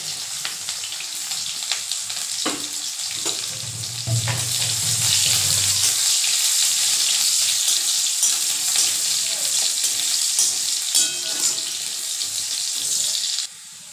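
Crushed garlic, dried chillies and onion fry in a pan with a loud, bright, continuous sizzle, close by. Stirring adds occasional scrapes, and a short lower rumble passes midway. The sizzle cuts off abruptly near the end.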